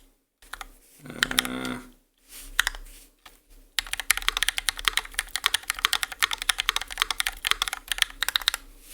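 Typing on a RAMA M60a mechanical keyboard: dense, rapid clacking keystrokes up close and fairly loud, preceded by a few scattered key presses and brief louder bursts, with a steady fast rhythm dominating the second half.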